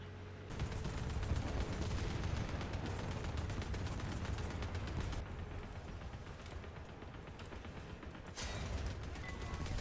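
Bombs and gunfire in War Thunder during a Centurion Mk. 3 tank battle: a loud, sustained barrage of blasts and rattling shots from start to finish, with brief dips and renewed bursts.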